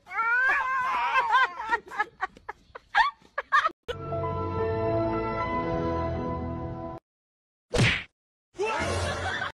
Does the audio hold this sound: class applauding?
no